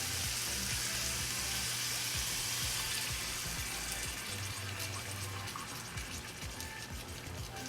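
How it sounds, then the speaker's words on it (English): Soy sauce mixture pours into a hot pan, giving a steady broad wash of liquid sizzle and splashing that runs continuously and fairly loud for several seconds, easing slightly toward the end with no voices. "now we're going to add our soy sauce mixture in here."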